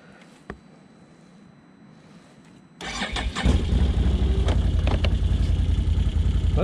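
A 2021 Can-Am Outlander 850 XT ATV cranks and fires up after a quiet moment, then settles into a loud, steady close idle rumble.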